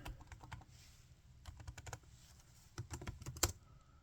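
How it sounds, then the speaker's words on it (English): Someone typing on a computer keyboard into a gematria calculator, quick bursts of light key clicks with short pauses between them and one sharper keystroke near the end. "we have to start typing things in"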